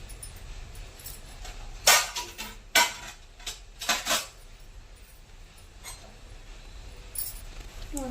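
Mustard seeds go into a kadai of hot oil while making avarekalu uppittu, giving a few sharp clinks and rattles in short bursts against a quiet kitchen background.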